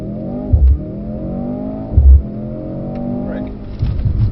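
Mercedes-Benz car launching at full power on a closed test track, a loud close engine note rising steadily through the gears with brief low thumps at each shift.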